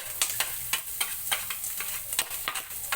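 Onions sautéing in a hot pan for chop suey, a fine continuous sizzle broken by repeated scraping strokes of a stirring utensil, close and fairly quiet.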